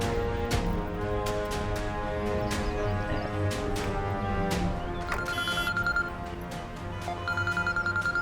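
A telephone rings repeatedly in a steady pulsing pattern, loud and close, with a shrill electronic ringtone joining near the end.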